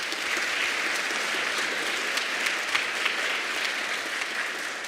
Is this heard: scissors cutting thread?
no